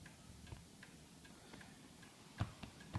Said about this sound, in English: an up-close look at this absolutely magnificent carved black forest shelf cuckoo